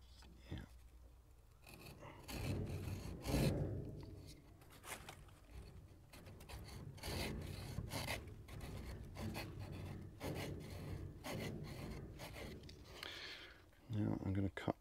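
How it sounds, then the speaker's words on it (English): A pruning saw cuts through a fruit tree branch during fan-training work. Rough rasping strokes repeat at close range, mixed with leaves rustling and a speaking voice. "with the pruning saw, I will take the top of this out"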